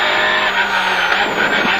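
A Peugeot 106 rally car in the F212 class runs flat out on a closed rally stage, its engine droning loudly and evenly while tyre noise hisses beneath as the car slides for a short stretch.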